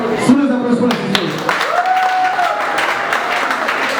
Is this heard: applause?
yes